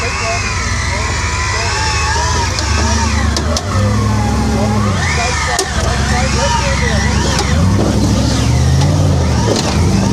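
At a Cliffhanger 2025 rock-crawling event on Mickey Thompson tyres, an off-road vehicle's engine rumbles and revs in rising and falling surges as it climbs over rocks, loud and close, with a person talking over it.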